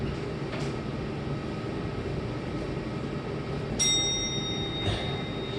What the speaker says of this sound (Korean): 제가 종을 치겠습니다.